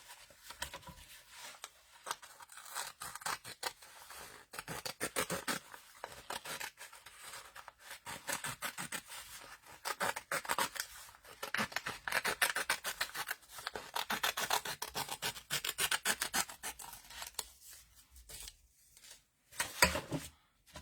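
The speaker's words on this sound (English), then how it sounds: "And then I want to snip this right about here." Scissors snip and rasp through paper for a mermaid journal, a close, quiet run of rapid cutting strokes and rubbing with short pauses, ending in a few sharper snips.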